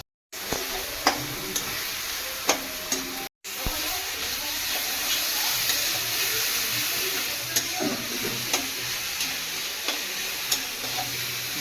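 Onions frying in a pan for Andhra-style chicken give a steady, close sizzle and hiss throughout, broken by occasional clicks of stirring and a short drop to silence near the start.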